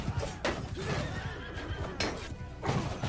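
Horses whinny and snort amid clip-clopping hooves and battle clatter in the medieval combat game Mount and Blade Bannerlord, several neighs close by over about three seconds.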